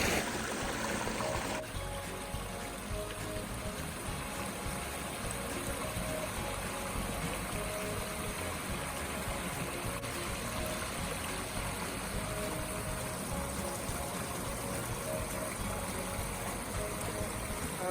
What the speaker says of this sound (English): you've got the waterfalls coming in two directions